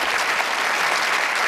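An audience claps at a political speech, a dense, even burst of applause from a crowd that fills the whole moment without any speech over it.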